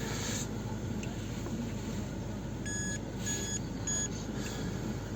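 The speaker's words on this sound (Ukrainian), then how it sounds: "От включений підігрів сидіння і воно буде пищати, фонить на цілу машину." Electronic beeping from a field detector reacting to the heated seat repeats in short bursts over a steady engine-like rumble inside a 2012 VW Touran 2.0 TDI, the tones clustered and moderately loud.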